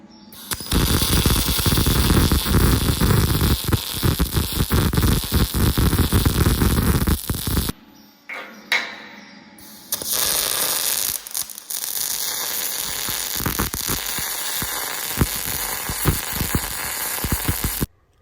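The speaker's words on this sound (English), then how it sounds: "I'm just going around and spot welding it everywhere, sort of every 10 to 15 mil" Spot welding on a heavy-duty steel welding table being fabricated, a loud close crackling buzz that runs in long bursts with short pauses between welds.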